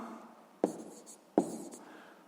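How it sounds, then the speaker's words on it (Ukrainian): Pen on paper as a sixth-grade maths answer is written out by hand: two quick scratchy strokes, each starting with a tap, close and fairly quiet in a still room. "Записуємо відповідь."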